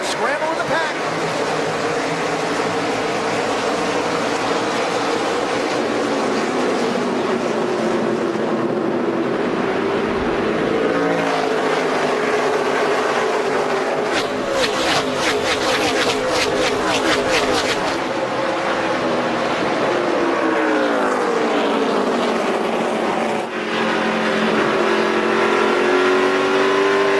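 Stock cars roar through the start of a 200-lap race on a short oval track at Thunder Road, engines revving and shifting loudly and continuously as the pack passes, under steady commentary.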